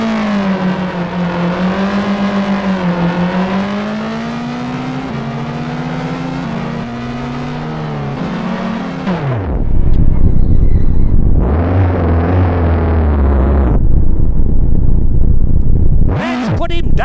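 Racing cars in a video game championship race roar through a loud sustained engine drone with shifting revving pitch, then cut to brief bursts of deeper rumbling engines as cars battle for position, commentators talking over the action.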